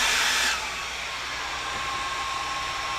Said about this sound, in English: I'm just going to dry this really quick because I am going to emboss